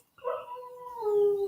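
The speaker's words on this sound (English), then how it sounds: "if you hear my dogs howling in the background" Dogs give a single drawn-out howl after a brief silence, a steady wavering tone that swells slightly and holds, fairly close and clear with nothing else over it.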